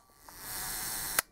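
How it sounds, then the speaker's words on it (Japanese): Hasselblad camera with Planar C 80mm F2.8 lens, shutter fired at a 1-second speed: a soft opening click, about a second of faint whirring as the shutter stays open, then a sharp closing snap, heard alone. "シャッターは、低速の1秒から見ていきましょう。"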